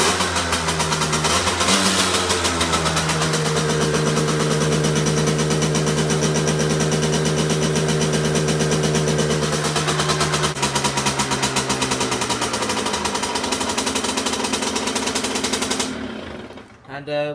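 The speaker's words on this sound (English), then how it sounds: "So how I usually start up is just a kick and a little twist of throttle" A Derbi Senda 50cc X-Treme SM motorcycle engine is kick-started and left idling, giving a close, loud and steady buzzing drone that holds for about sixteen seconds before cutting out.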